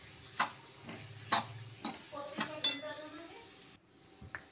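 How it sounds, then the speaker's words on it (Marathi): Capsicum stir-fry being stirred in a pan, a spoon scraping and knocking against the metal in a series of distinct clinks and taps, close by and fairly quiet, with a voice speaking softly at moments. "शिमला मिरचीला छान परतून घ्यायचं, छान हलवत राहायचं मिक्स होईपर्यंत।"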